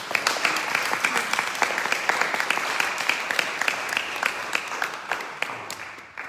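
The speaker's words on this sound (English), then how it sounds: "And let's clap for everyone." Devotees at a Bhakti Yoga retreat in Belgium clap together in a sustained round, a dense crackle of many hands close by that holds steady and then thins out toward the end.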